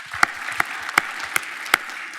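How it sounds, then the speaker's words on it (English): An audience at a tech anniversary event applauds a panel, a soft bed of clapping with about five sharper, louder claps standing out at a steady, evenly spaced rhythm. "Let's give a round of applause to our cool panel."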